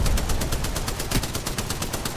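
Loud, unbroken rapid gunfire from Apex Legends, shots hammering in a fast, even rhythm for the whole couple of seconds.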